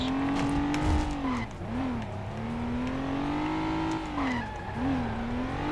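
A tuk tuk in the stunt-driving game Stuntman swerves through traffic, its engine droning steadily with pitch dips and rises as it weaves, with a few tire squeals, loud and close throughout.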